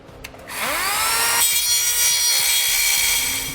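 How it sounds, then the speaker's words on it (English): A steady, loud grinding whine of a metal cutoff wheel biting into metal, rising in pitch at the start then holding continuously with no talking. "just using a metal type cutoff wheel"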